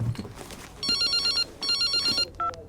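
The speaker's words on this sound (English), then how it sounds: "every time the phone rings," A telephone bell rings in two long bursts, the ringing loud and close against a quiet indoor background, with a short electronic tone at the end.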